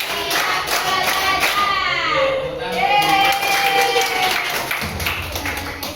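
Students in a classroom clapping a counted clap pattern in grouped bursts while voices call out over the claps, energetic and close.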